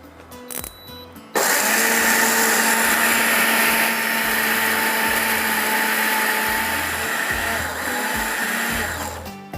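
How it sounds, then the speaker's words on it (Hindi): Spices for a Bihari boti masala are ground to powder in an electric grinder: a few handling knocks, then a loud, continuous high-pitched whirring that runs steadily to the end. "बस इसी तरह से इसको पूरा पीसना है, पीस के पाउडर फॉर्म में करना है।"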